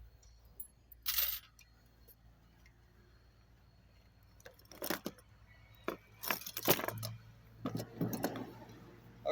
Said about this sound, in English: Got a whole pile of little wrenches, ignition wrenches, or whatever you want to call them.